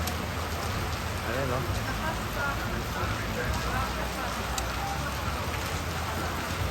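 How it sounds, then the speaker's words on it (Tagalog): Steady rain pours down on Panglao, Bohol in a dense, even hiss that holds constant throughout, with a few faint murmured words from nearby people under the downpour. "Makas lalo ang ulan."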